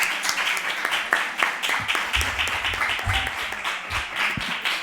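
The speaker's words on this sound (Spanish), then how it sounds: "no tengo más que aplaudirte" An audience at a talk on the manosphere and online misogyny claps steadily for several seconds, close and moderately loud, with faint voices beneath.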